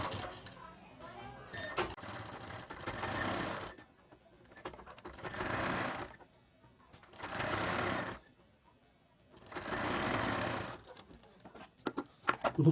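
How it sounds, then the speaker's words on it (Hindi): A sewing machine stitches a child's shirt in four separate bursts of rapid whirring, each a couple of seconds long, separated by quieter pauses; someone talks in between. "पैर की सिलाई लगा देते हैं"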